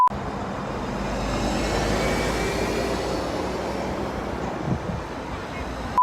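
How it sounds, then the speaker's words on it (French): Steady city street traffic of passing cars forms a broad continuous rumble, fairly loud and close, with no breaks through the stretch. "donc vous allez avoir plein de bruit de voitures"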